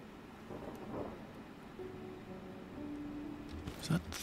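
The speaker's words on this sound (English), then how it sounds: "Is that thunder?" Thunder rumbles during a storm in the survival crafting game Sunkenland, a low rolling boom under steady rain and wind, with brief faint game noises on top.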